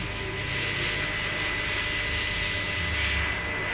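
A balancing machine spins a brand-new Nissan GT-R VR38 crankshaft, producing a loud, steady, broadband whir with a constant hum that holds evenly throughout and has no speech over it.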